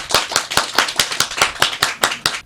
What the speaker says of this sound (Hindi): एक बार जोरदार तालियां हो जाए छोटी बच्ची के लिए।